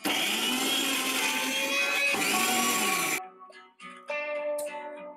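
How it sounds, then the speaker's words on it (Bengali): An electric blender whirs loudly as it grinds small pieces of bottle gourd into a smooth paste, a steady high motor drone that briefly dips, cuts off, and spins down before restarting. "এবারে ছোট ছোট লাউয়ের পিসগুলোকে আমি বেটে নেব।"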